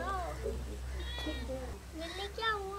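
Cat meowing in a household setting, several drawn-out mews rising and falling across the few seconds, fairly close, alongside a low steady hum and voices talking.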